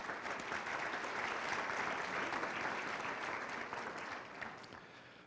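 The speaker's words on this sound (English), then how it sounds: "just give them a round of applause as well tonight" Sustained audience applause at a chamber of commerce annual meeting, a dense steady wash of many hands clapping for about five seconds, tapering slightly at the end, with no talk over it.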